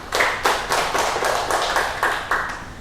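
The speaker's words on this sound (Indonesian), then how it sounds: "Tepuk tangan juga untuk Mbak Dina" Rhythmic clapping from a small group in a classroom lesson, in about eight regular, fairly loud bursts, close and with no voices over it.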